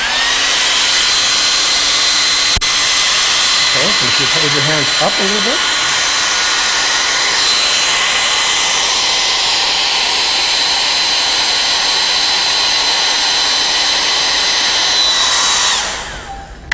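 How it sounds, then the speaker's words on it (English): A handheld hairdryer blows a steady, loud stream of air over wet hands for the whole stretch, a constant roar with a faint high whine, while a person speaks briefly over it early on. "I'm going to pull out my trusty hairdryer"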